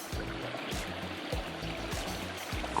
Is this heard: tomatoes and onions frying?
no